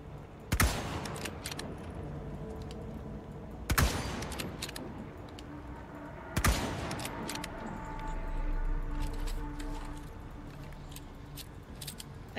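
Three sharp, well-spaced gunshots ring out in the Resident Evil 4 remake, each a loud crack with a short tail, over a quiet game ambience with faint clinks and rumble.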